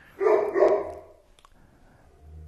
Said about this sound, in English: my apologies for the dog barking.